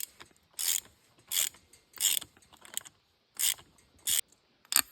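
A ratchet clicks in short, sharp bursts while loosening the two 10mm valve cover bolts on a 1999 Honda XR100R, six or seven quick close ratcheting runs separated by brief pauses.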